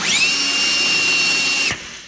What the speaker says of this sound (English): I like to spin it with the drill first before I do anything